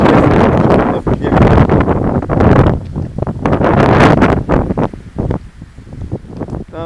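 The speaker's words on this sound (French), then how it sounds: "il y a du vent" Strong outdoor wind buffets the microphone in loud, rumbling gusts that come and go, near a catamaran on the water, with a voice speaking briefly amid the blasts.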